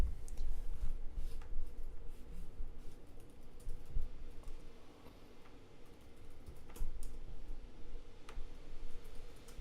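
Someone types on a computer keyboard, producing light, irregular clicks and taps, fairly close, over a steady low room hum with no talking.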